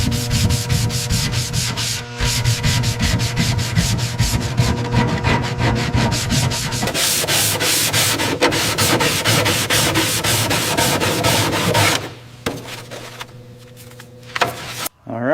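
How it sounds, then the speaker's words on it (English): Rapid, loud rubbing strokes across a painted panel, solvent-soaked cloth wiping away sanding dust in a steady scrubbing rhythm before pausing and finishing with a few lighter swipes. "just cleaning off the last of the sanding dust here with the solvent before we prime this section"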